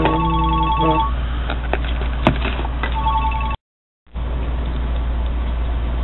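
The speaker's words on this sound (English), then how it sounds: "Had a emergency phone call. On the emergency phone, nonetheless, the phone that never gets used." An emergency backup phone rings in repeated electronic bursts up close, followed by a brief cutout and then a steady background hiss.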